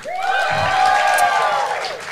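A youth poetry slam audience in Scotland lets out a sustained, rising and falling whoop of cheering over a bed of crowd noise and scattered applause, loud and close throughout.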